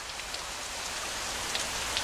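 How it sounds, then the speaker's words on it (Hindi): Steady rain falls in a soft, even hiss, with scattered droplets pattering on surfaces and no voices. "ये बारिश यानी 7 साल फरावानी रहमत का आगाज हो गया है।"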